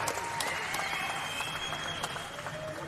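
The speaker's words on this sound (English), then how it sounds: "A big round of applause for both of these warriors here in the ring tonight." Crowd applause and cheering in an arena after a six-round boxing fight, a dense continuous wash of clapping with a few sharp individual claps, faint tonal noise running underneath and no clear speech.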